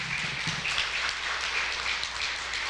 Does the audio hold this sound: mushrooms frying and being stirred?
no